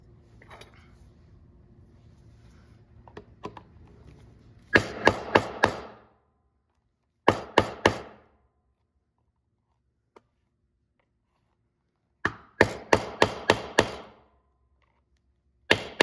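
Bursts of sharp, ringing hammer taps dome over rivets on a leather knife sheath in a workshop, coming in quick clusters of four or five blows separated by pauses, loud and close with no voices.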